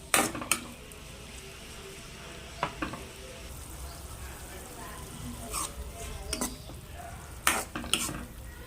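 Tomatoes softening in a pan for bitter gourd curry, with a low steady sizzle broken by several sharp spoon-against-pan stirring clacks spread through the clip.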